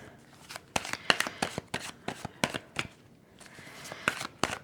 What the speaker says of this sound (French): Je vais prendre une carte avec le tarot.